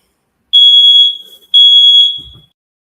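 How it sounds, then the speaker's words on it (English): A building smoke alarm sounds two loud, piercing electronic tones, each about a second long and separated by a brief gap, with no voices. "the smoke alarm is constantly going off in this building."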